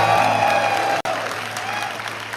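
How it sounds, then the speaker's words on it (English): A live crowd at the 2014 BlizzCon Hearthstone arena event claps loudly to vote for the card Spectral Knight, a dense burst of applause broken by a split-second gap before continuing. "If you like Spectral Knight, applaud now."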